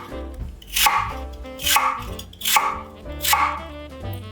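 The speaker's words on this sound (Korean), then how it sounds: "끝은 자르고 2mm 두께로 썰어주세요" A knife slices raw peeled lotus root into thin rounds on a cutting board, four crisp evenly spaced slices with a short pause between each.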